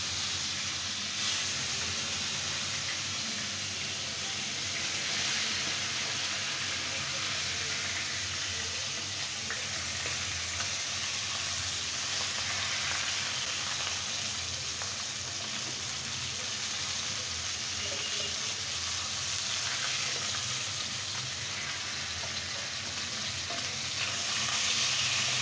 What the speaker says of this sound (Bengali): আমি এখন এই বাকি 3 পিস মাছকেও খুব সুন্দর করে ফ্রাই করে নেব।